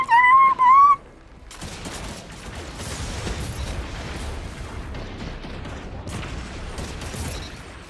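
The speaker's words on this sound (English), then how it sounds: "I'm getting fucking sniped." Sniper fire during an online shooter match: a sharp crack, then a sustained clatter of shots and mechanical noise at fairly high volume, with a short tonal game cue at the very start.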